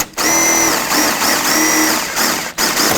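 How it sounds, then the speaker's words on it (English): A power drill whirs in short bursts, drilling out the center of a plastic rivet on a 2001-2007 Volvo V70 front bumper cover, motor pitch rising and falling as it bites through plastic, close and loud. "So I'm going to take a drill bit and drill out the center."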